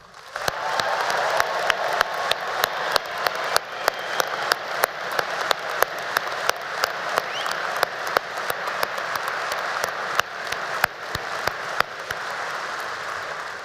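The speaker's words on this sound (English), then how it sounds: "would everybody give the loudest possible applause to our military families?" Commencement audience at Penn State's College of Agricultural Sciences applauding military families, a long, full sheet of clapping from a large crowd, with individual sharp claps popping out near the microphone over the steady roar.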